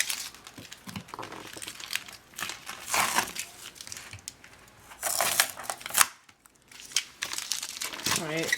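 Tape is peeled off a Cricut Maker cutting mat after engraving acrylic, giving close, intermittent bursts of crinkly rustling and tearing with short quiet gaps between pulls.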